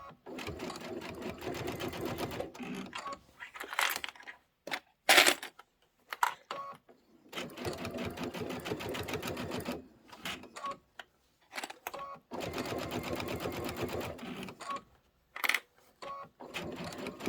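A sewing machine runs a quarter-inch seam on a bench pillow, sewing in several short bursts of rapid needle clatter broken by pauses and small clicks, close by.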